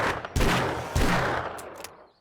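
A Magnum revolver in 7 Days To Die Alpha 19 fires twice in close succession. The loud, booming shots each trail off in a long decay, with a few faint clicks at the end.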